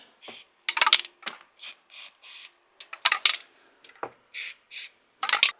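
Short hissing bursts from an upside-down spray paint can marking wall studs as dots, about a dozen sharp sprays in an uneven rhythm with brief pauses between, close and fairly loud.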